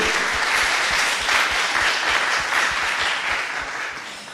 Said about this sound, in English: Yeah, clap your hands for our jury.